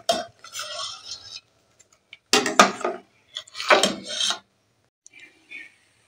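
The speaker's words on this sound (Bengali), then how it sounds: "আমি এইভাবে নাড়তে থাকবো, চাল নিচে বসে যাওয়ার ভয় আছে" A utensil scrapes and rubs through rice pudding (payesh) of rice and milk in a pot, four or five separate close stirring strokes with pauses between them and no talk.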